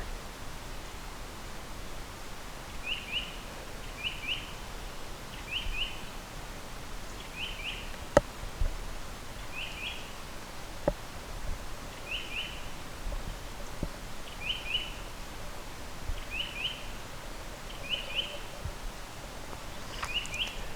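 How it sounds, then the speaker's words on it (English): Faint bird chirps repeat at intervals over a steady forest hiss, distant and soft, with a couple of brief clicks. "listening to the birds and the sound of nature"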